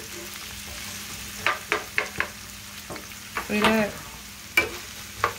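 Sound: onion and celery sautéing in a pot

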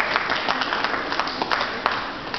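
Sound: audience applause at a shop launch

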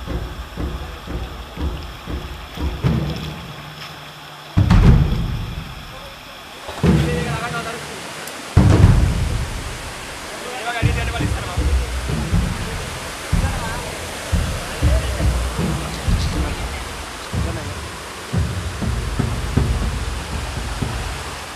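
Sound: small waterfall with heavy water flow in a forest

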